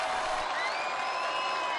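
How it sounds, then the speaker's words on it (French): A crowd cheers and applauds at a François Hollande rally on the Place du Capitole in Toulouse, forming a steady, dense wash of sound with no breaks and a voice speaking over it. "c'est galvanisé par les cris et les applaudissements que François Hollande a quitté la scène"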